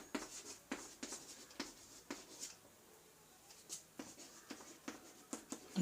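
Chalk or a marker taps and scratches across a board in short irregular strokes, fairly faint and close, with brief pauses between marks and no speech.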